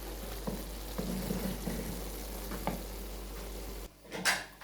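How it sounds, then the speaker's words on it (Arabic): Oil and dough sizzling in a hot pan while Moroccan chicken cigars are fried, a steady close hiss with faint clinks of a pan and utensils, ending in a brief louder clatter. "هانتوما الترميله ديالي بدات كتشحر"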